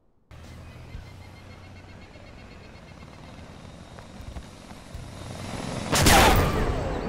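Helicopter in the video game Arma 2, a steady rotor and engine drone running throughout at moderate level, swelling into a louder, nearer burst of noise near the end.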